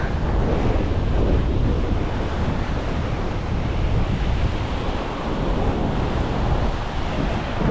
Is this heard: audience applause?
no